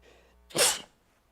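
A single loud, sharp sneeze bursts out close by in a quiet room during a planning commission meeting.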